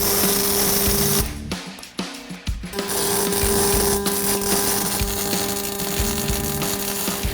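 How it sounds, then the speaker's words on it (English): Machine tool boring a 5/8-inch pivot hole in a steel plate in a garage, a steady close motor drone with a constant tonal whine, briefly dipping and stuttering before resuming evenly, with no talk. "that's where I'm going to machine my bottom 5/8 hole"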